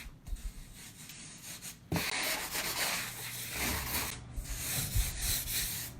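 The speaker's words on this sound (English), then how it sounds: "I have just a sanding block here. I tend to run that over the stencil" A sanding block rubbed over a stencil on a salvaged wooden sign, giving a close, soft scratchy rasp in uneven strokes, quiet at first and then steadier and louder, with no talking.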